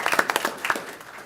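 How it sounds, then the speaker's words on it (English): A few scattered hand claps at a school board meeting, a short sparse burst of individual claps that quickly thins out and fades, fairly close and moderate in loudness. "give a warm round of applause for both of our young ladies that are here this evening"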